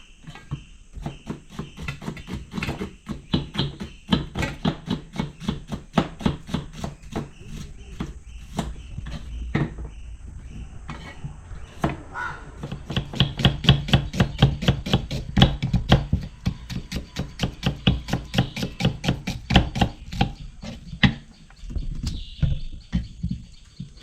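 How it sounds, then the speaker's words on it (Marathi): A knife slices onion thinly for crisp onion bhaji, making a steady run of sharp, close chopping taps on a board that continues throughout with brief pauses. "कांदा बघा इथे मी पातळ उभा कापून घेतला आहे भजीसाठी"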